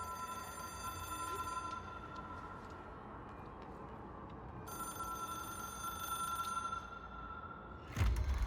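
A telephone that serves as an object of power rings in the video game Control. Two sustained bright bell rings sound over a low background hum, ending in a sudden thump, with no voices.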